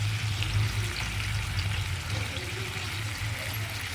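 Whole unpeeled garlic cloves frying in a pan, a steady close sizzle with a low bubbling hiss that holds evenly throughout, no voices.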